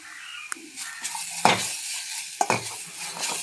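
Ginger garlic paste sautéed in a pan with chili powder, turmeric, pepper and cumin for a ragi vegetable soup. Close-up spoon scrapes and clinks against the pan come over a steady low sizzle, with no talking.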